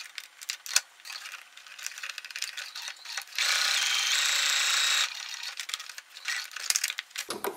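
Sewing machine stitching fabric along the presser foot edge, tension set around 3 to 3.5: a steady, dense mechanical whir for about a second and a half mid-clip, set among quieter ticks and clicks of the machine.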